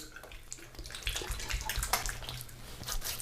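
Warm water runs steadily from a tap during a shave, a close, continuous splashing rush that grows a little louder partway through.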